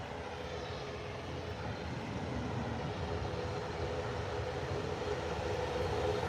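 An Ethiopian airliner lands at Manchester Airport, a low, broad, steady jet rumble that swells gradually across the stretch, distant and moderately quiet, with no talking.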